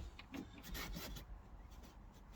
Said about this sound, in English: rubbing away, and as you can see, when you get down in the edges, you get all the dirt out the edges of the rubber